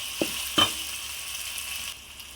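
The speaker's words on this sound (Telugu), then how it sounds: "ఇలా కలుపుతూ ఫ్రై చేసుకుందాం," Paneer biryani masala with tomato pieces fries in a pan, giving a faint, steady sizzle, with two quick scraping taps as it is stirred near the start.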